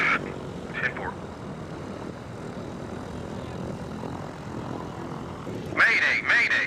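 A Cessna light aircraft drones steadily in flight with a constant propeller engine hum throughout, and a voice speaks briefly over it at the start and again near the end.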